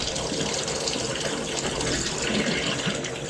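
Water runs steadily from a Delta 1700 series shower faucet, a close, even hiss and splash that continues without a break and without talking.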